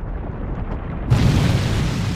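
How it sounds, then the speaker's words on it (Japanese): Anime explosion during a hero training exercise: a sudden deep boom bursts in after a quieter rumbling stretch, then a sustained loud roar continues with no talking. "爆破？"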